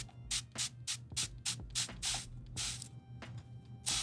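Water and stain repellent spray hisses onto a fitted hat in a quick series of short bursts, close and sharp, with brief pauses between the back-and-forth passes.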